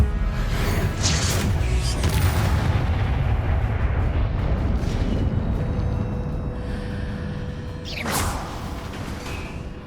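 In the Hogwarts Legacy video game, the Confringo spell sets off explosions that come as a loud, dense roar of blasts and rumbling. The noise holds for several seconds and ends in a sharp whooshing burst near the end.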